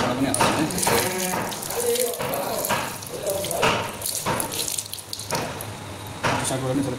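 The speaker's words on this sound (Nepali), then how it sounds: "अर्को साइडबाट पनि यसरी पानी हाल्छौँ।" Water is poured through a pig's large intestine to rinse it clean, giving repeated gushing, splashing bursts with short pauses between them, and a voice talking over the flow.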